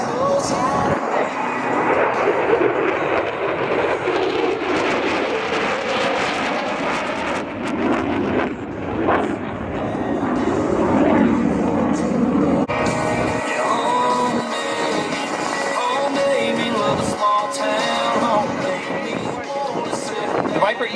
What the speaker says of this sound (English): F-16 Viper demonstration team proudly presents the dedication pass.